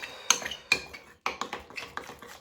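A spoon stirs a natural hair care mixture in a bowl, making a series of close clinks and scrapes in uneven bursts, clear and alone.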